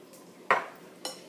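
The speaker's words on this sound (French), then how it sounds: "Je mélange à nouveau." A utensil clinks twice against a bowl while a hair care mixture is stirred, two sharp, close taps about half a second apart in an otherwise quiet room.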